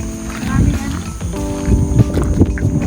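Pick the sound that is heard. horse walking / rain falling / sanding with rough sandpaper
horse walking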